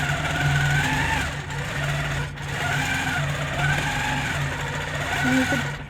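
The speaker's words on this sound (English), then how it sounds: "wherever you put that machine, it's going to quilt that yarn and attach it to whatever you're working on" A longarm quilting machine hums steadily with a high, whirring motor tone, stitching yarn couched onto a quilt; the rapid mechanical drone rises and dips slightly as the machine moves.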